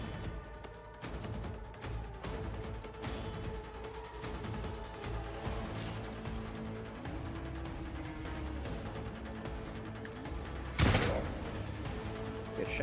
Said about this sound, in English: Shoot gun.